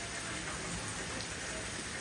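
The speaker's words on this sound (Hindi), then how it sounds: "और बारिश ने भी एंट्री दे दी" Rain falls steadily in a rural village setting, a dense, continuous hiss of drops hitting surfaces. It is fairly loud and even throughout, with no voices.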